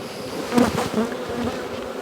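Honey bees buzz in a steady, close swarm as they are shaken off brood frames while splitting a colony, the drone rising briefly in louder bursts.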